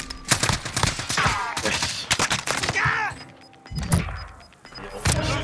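Rapid gunfire in the video game Call of Duty Warzone on Rebirth Island, dense bursts and single shots with thuds, loud and close, while a player speaks briefly.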